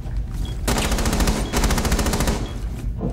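Automatic gunfire in the Rainbow Six Siege video game, two loud rapid bursts of close shots, the first running about a second and the second longer, with no talk.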